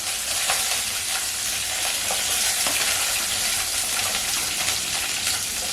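Curry leaves spluttering in hot oil while cooking potato masala for crispy puri: a loud, continuous sizzle with sharp crackles and pops close by, and nobody talking.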